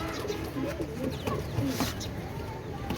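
Pakistani pigeons cooing in a loft, soft low coos repeated under a steady background hum, close and fairly gentle.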